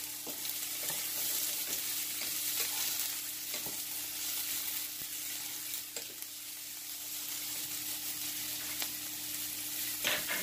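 Onion and green pepper sautéing for sofrito, a steady close sizzle of frying with occasional sharp clicks of a spoon stirring against the pan, no voices.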